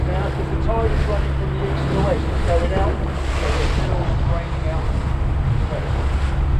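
Fishing boat out of Newhaven heading east over a wreck, motoring through sea waves: a constant low engine rumble mixed with wind buffeting and the rush of water, with a person talking over it.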